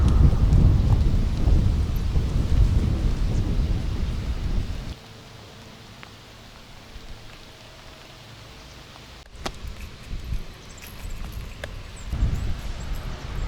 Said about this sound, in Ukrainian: Який дощ лиш пари